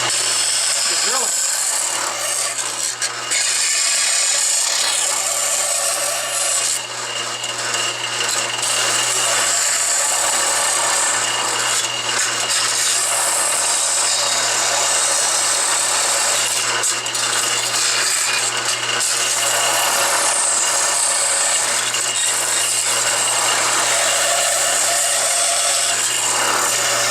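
A power sander grinds curves into a wooden bracket, making a loud, sustained abrasive rasp with a steady motor hum and slight shifts in pitch as the piece is pressed against it.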